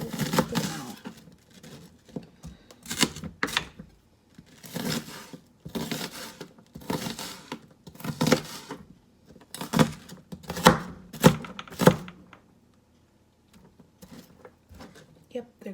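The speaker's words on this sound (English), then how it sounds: "It even sounds cool to cut like this" A knife slices a red onion on a cutting board. Crisp chops come in short irregular bursts, close and clear, with speech heard among them and a quiet stretch near the end.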